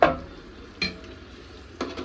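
A spoon scrapes and clinks against a cooking pot as biryani masala is stirred in, three separate knocks spaced about a second apart with quiet between them.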